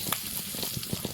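Panch phoron and bay leaf frying in hot oil for a Bengal-style vetki fish head curry, a dense crackling sizzle with quick popping bursts, close and steady throughout.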